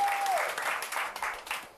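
A live audience applauds a singer on a TV channel 24 broadcast. Dense, steady clapping fills the whole short stretch, loud and close, with crowd noise mixed in. It thins slightly toward the end.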